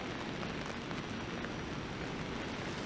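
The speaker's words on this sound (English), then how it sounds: "And as you can tell, it is raining." Steady rain falls on a city street at Carlton Street in Toronto on a cold day, a constant dense hiss with faint traffic rumble underneath and no voices.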